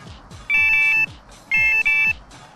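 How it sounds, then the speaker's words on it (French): Electronic beeps from an Enduro 2 touch detector and its receiver: two sustained steady tones about half a second each, the second briefly broken, loud and close against a quiet background with faint ticking. "À chaque bip du détecteur correspond un bip instantané sur le récepteur."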